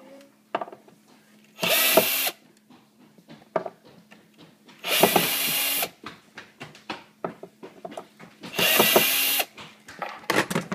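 Cabinet hinge screws being backed out with a power drill, short bursts of whirring spaced several seconds apart, with clicks and handling noises between them, close and fairly quiet.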